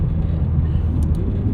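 A 2025 McLaren 750S supercar with a twin-turbo V8 heard from inside the cabin, a loud, steady low engine rumble and road drone throughout the short stretch, with no clear speech over it.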